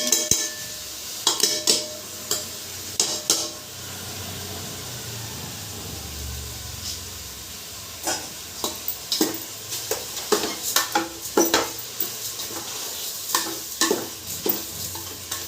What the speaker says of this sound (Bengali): এটাকে একটু নাড়াচাড়া করতে হবে এবার এটা আমার ফ্রাই হয়ে গেছে